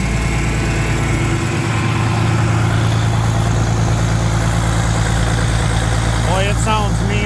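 A big orange tractor engine idles loud and steady with a deep, continuous rumble and vibration. Someone talks briefly over it near the end.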